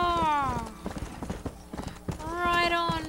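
Horse hooves clip-clop in the Western video game Red Dead Redemption, with a horse whinnying loudly at the start and again near the end, the steady hoof beats running close and clear throughout.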